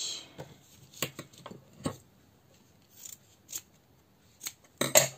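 Scissors snipping through material in a quiet room, about eight or nine short crisp cuts coming singly and in quick pairs with brief pauses between, close and clear with no talk.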